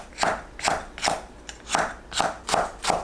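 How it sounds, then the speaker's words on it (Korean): A knife chops perilla leaves into thin strips on a cutting board, seven or eight crisp, evenly spaced strokes in a steady rhythm, close and clear with no talking. "깻잎을 채 썰어주세요."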